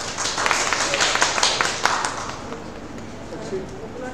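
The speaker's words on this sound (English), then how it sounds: "Clapping." Audience applause at a two-day international seminar on human rights and social inclusion: dense, steady clapping from a crowded room that thins out and softens over a few seconds.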